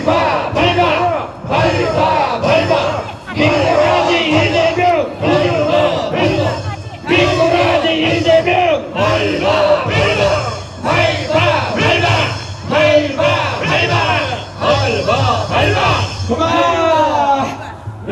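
A large crowd at a Korean political rally shouts and chants in loud, rhythmic bursts, with many voices yelling together in repeated surges and brief dips between them.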